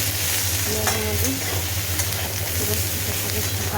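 Sliced onions with a pinch of salt sizzle and crackle in hot oil in a pan, a dense, continuous frying hiss with occasional stirring scrapes close by.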